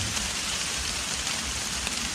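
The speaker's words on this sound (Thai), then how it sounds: "อุ้ยฝนตก" Rain pours steadily through a forest where wild mushrooms grow, a dense, even hiss of falling drops that fills the whole stretch without pause or voices.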